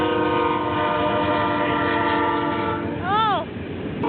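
Long freight train rumbling past with steady wheel and engine noise near Daggett on Route 66, its horn sounding once briefly near the end.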